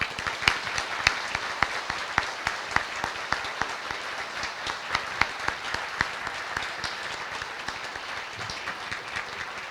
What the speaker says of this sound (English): Ladies and gentlemen, please join them in a round of applause.